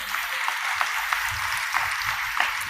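An audience at a Telugu spiritual sermon claps after the preacher's point, a moderate patter of many hands heard at a slight distance, steady and uneven in rhythm, with a few sharper claps standing out.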